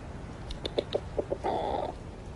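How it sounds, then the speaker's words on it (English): Chickens in a calm back garden give a few short, spaced clucks, then a brief sustained squawk, close by with no talk over them. "We do have chickens here."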